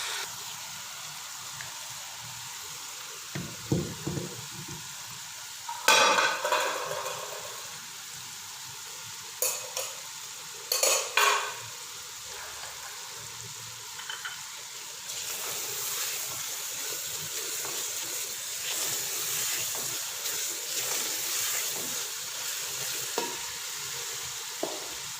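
Garlic and spices fry in a pan as chicken gravy is made, a soft continuous sizzle broken by several brief scraping stirs of a spoon, fairly quiet and close, with no speech.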